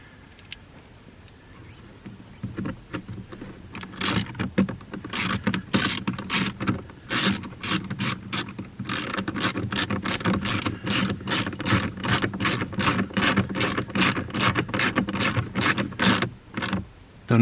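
A ratchet snugs down the 7 mm bolts of the plastic air filter housing on a 2017 Ford F150, heard up close as long runs of rapid clicking, with brief pauses between strokes.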